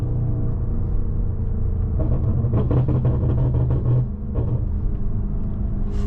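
A stage 2 tuned BMW G30 M550i V8 rumbles deep and steady from inside the cabin during a drive, swelling into a throatier burst partway through before settling back to a low drone.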